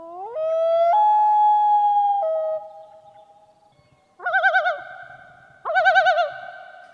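An eerie bird call plays alone as a recording: a long rising then falling wavering whistle, followed by two shorter trilling, vibrato calls after a pause, loud and clear against silence.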